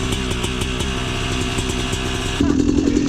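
A Yamaha YZ250 two-stroke dirt bike engine runs steadily at close range with a pulsing, buzzy tone, then rises sharply in pitch and loudness near the end as it is revved.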